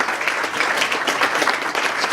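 An event audience gives guest speakers a round of applause, a busy, fairly loud patter of many hands that holds steady for about two seconds.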